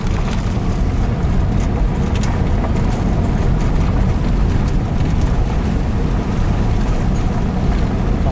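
Steady, loud road and wind rumble from a Chevrolet Suburban driving on a road with new front tires, a constant broadband roar with no pauses and no voices.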